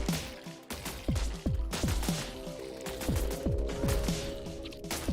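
Gunfire in the Buggos video game: rapid bursts of sharp shots in an uneven rhythm, dozens of reports close together, with mechanical clanks and ratcheting between them.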